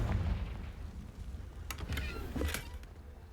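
A fire spell cast in the Hogwarts Legacy game lands as a few booming, explosive blasts with crackling bursts, loud and close over a low rumbling game backdrop.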